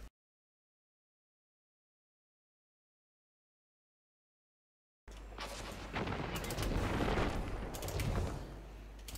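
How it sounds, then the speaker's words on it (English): Video game fireworks crackle and pop in a dense, continuous burst of sharp bangs after about five seconds of silence, loud and with no voices over them. "Fireworks."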